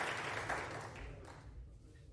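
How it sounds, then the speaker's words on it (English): Applause from a snooker audience at the 2022 World Snooker Championship final between Judd Trump and Ronnie O'Sullivan, a steady patter of clapping that fades over two seconds. "Even I'm applauding that."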